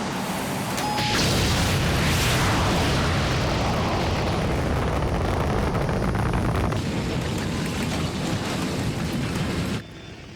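Booster rockets firing in an action film, a loud sustained roaring rumble with crackling blast texture that swells early and holds steady for several seconds before cutting off abruptly near the end.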